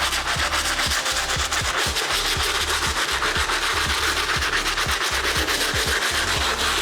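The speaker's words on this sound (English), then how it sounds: "we're gonna pick the stiff bristle brush back up and we're gonna go right back in" Stiff bristle brush scrubbing the outsole of a 2014 Air Jordan 11 Legend Blue sneaker, loud close rhythmic back-and-forth strokes repeating steadily throughout with no talk.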